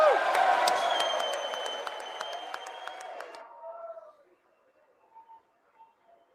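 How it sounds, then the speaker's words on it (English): Members of Congress applaud the President at the State of the Union, a broad, crackling wash of clapping that gradually thins and fades out after a few seconds, leaving near-silence with faint scattered sounds. "They got to do 10 minutes worth of clapping."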